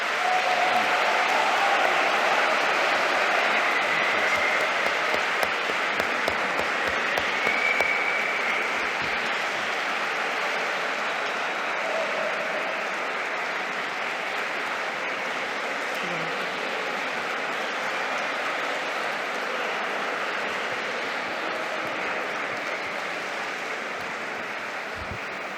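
Dense, sustained applause from a library audience after a book talk fills the room, a steady wash of many hands clapping that fades slightly toward the end, with no voices over it.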